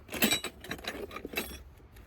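A bunch of keys jangles and clinks in a few quick metallic shakes, close by, with bright rattling bursts.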